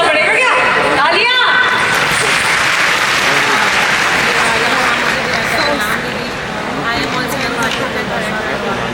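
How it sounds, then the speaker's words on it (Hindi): Audience applause at a felicitation event on stage in Patna: sustained clapping with crowd chatter fills the whole stretch, loud and dense, easing slightly toward the end. "तालियां."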